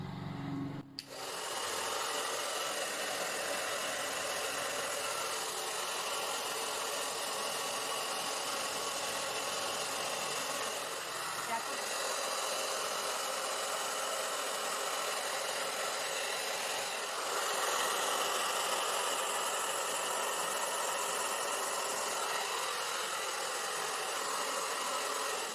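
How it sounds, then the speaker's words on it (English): A hair blower runs steadily, drying paint on a canvas, its broadband whooshing airflow starting abruptly and continuing loud and unbroken without speech. "My new hair blower, still haven't learned how to control her, but I'm gonna try."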